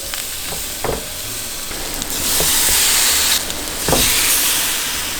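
French toast sizzles and hisses steadily in a hot pan, a continuous close frying crackle with a few brief louder bursts and no talk.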